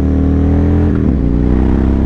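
Engine of a 2005 Yamaha MT-01 motorcycle, a steady loud low rumble with a slight pitch dip near the middle, running close and alone without talk.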